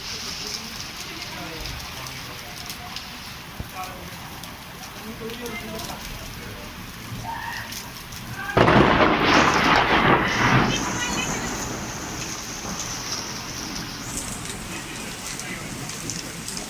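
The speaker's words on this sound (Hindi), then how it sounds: "आज ही भोपाल में ओले गिरे थे तो उसकी मैं वीडियो रिकॉर्डिंग वगैरह करी थी मैंने उसके बैक कैमरे से" Phone recording of a hailstorm in Bhopal with rain, a steady hiss of falling rain and hail and a sudden loud rumbling surge midway that fades gradually.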